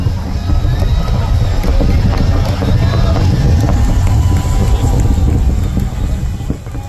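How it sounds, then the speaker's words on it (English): A SpaceX Starship launch roars from five miles offshore on the ocean, a loud, continuous low rumble with buffeting wind noise and crowd murmur filling the whole stretch. "The world's tallest rocket is on its way to space. And it was so loud. It's still so loud."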